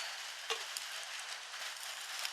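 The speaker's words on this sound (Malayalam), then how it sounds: "നമ്മുടെ ചിക്കനും ഏകദേശം ഒന്ന് ഫ്രൈ ആയി വരുന്നുണ്ട് കേട്ടോ" Chicken frying in a pan, a quiet, steady sizzle with a few soft ticks and one faint clink, heard alone with no talking.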